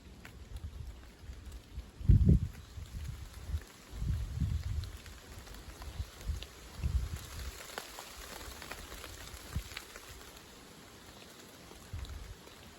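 Thunderstorm rain shower on an evening in June, a faint steady hiss of rainfall with soft gusts of wind buffeting the microphone in several low bursts.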